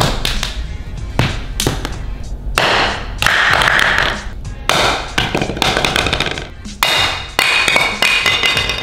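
Plastic practice flair bottle dropped repeatedly on the floor, a series of sharp, loud knocks and thuds with short bounces, close by and at irregular intervals.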